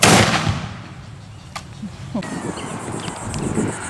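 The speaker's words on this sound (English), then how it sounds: "The weapon can discharge before you're ready." A matchlock gun fires once outdoors at a historic site, a loud sharp blast at the start that rolls off into a long fading echo, followed by quiet outdoor ambience with faint distant birds.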